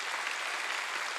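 Steady, dense applause from a congregation at a Korean Sunday church service, a continuous wash of many hands clapping at even loudness for the whole brief moment, no voices on top.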